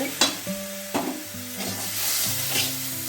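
Sugar stirred in a pan with a couple of spoons of vinegar, melting over low gas for amla pickle. A soft sizzle runs under it, with two sharp scrapes near the start and repeated stirring strokes after that. No voices.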